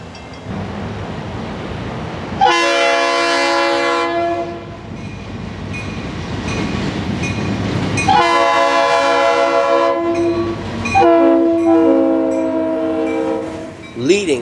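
A Florida East Coast Railway GP40-2 locomotive leading a freight train sounds its horn in several long loud blasts over a steady rumbling diesel and rolling wheels, passing close by.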